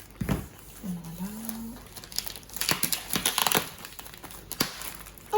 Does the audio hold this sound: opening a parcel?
yes